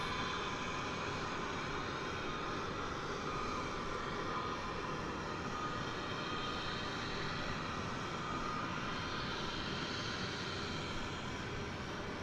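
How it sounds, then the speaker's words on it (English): American Airlines Airbus A321neo arriving from Anchorage, heard as a steady, fairly faint broadband jet roar that swells and eases slightly with no voices. "we'll be able to show you American Flight 399 coming in from Anchorage, Alaska. It's an Airbus A321"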